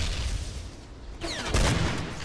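M1100 shotgun firing slugs in a video game, with a rumbling blast, a quiet lull, then a second sharp report and ringing tail, all without voices.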